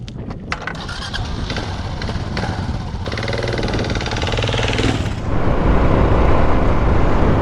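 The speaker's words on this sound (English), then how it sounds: "So let's mount up on the KLR 650 and head out and see what we can find." Kawasaki KLR 650 motorcycle on Prince Edward Island pulls away and rides, a steady engine drone with wind rush building louder over the last few seconds, close to the microphone with no talking.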